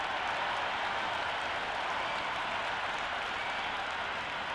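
Cricket match crowd in the Cricket 26 video game: a steady, even wash of distant applause and crowd noise fills the whole stretch without pause, moderately quiet and with no clear voices.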